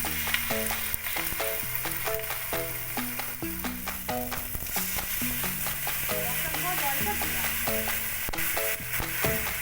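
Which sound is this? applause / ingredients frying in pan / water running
ingredients frying in pan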